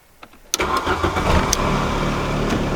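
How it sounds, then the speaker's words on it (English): A car engine cranks and catches after an ignition switch replacement, a sudden loud start settling into a steady, rough idle close to the microphone, with a few clicks before it turns over. "Car starts."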